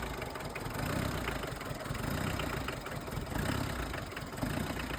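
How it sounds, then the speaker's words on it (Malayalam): A Hindustan Contessa Classic car engine idling after head work, with a slight shake, giving a dense, even, continuous running drone close by with no talk. "ഇപ്പോൾ കറക്റ്റ് ഐഡിയലിങ്ങിലാണ് വണ്ടി കിടക്കുന്നത്."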